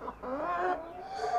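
A white Cochin hen clucks in a short run of soft, rising and falling calls, close and fairly quiet.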